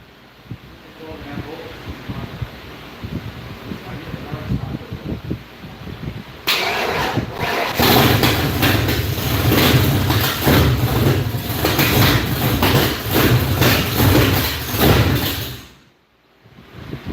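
A 408 stroker V8 in a Ford Fox Body cranks and fires up after several seconds of background noise and voices, settling into a loud, rough, steady roar. It cuts out abruptly near the end, then restarts briefly.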